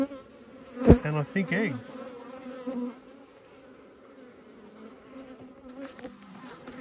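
Honey bees hum in a steady, close buzz from an opened hive holding a mated queen, larvae and eggs in autumn, with a person speaking briefly over the drone early on.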